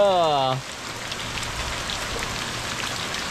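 Heavy rain pours down in a dense, steady hiss throughout, with a short voice-like tone at the very start.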